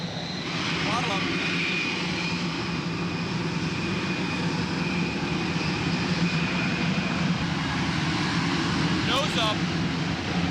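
Fixed-wing aircraft engine throttling up to around 70% power during an X-plane flight test, a steady loud drone with a high whine running throughout, as people talk over it.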